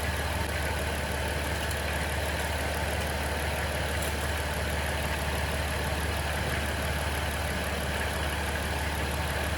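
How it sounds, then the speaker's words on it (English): A 2010 Dodge Grand Caravan minivan engine idles steadily in park nearby, a constant low hum and rattle that never changes pace, with no voices. "Have the van running, idling in park."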